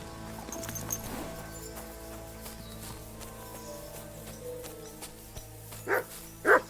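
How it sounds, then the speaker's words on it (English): Quiet ambience in the video game Kingdom Come: Deliverance II, with soft hoof clops in woods, then a black horse gives two short snorting whinnies near the end. "Horse? What's it doing here in the woods?"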